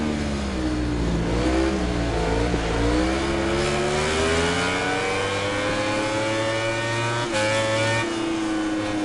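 A motorcycle engine in the MotoGP 19 racing game revs hard and steadily, its rising and falling pitch climbing through the gears as the bike is pushed out of corners, loud and continuous with no voices.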